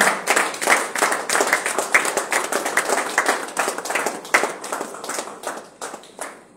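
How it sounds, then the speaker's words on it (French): A church congregation claps together in acclamation during a Tuesday worship service, a steady run of loud, fairly even handclaps that carries on throughout. "Est-ce qu'on peut acclamer ensemble?"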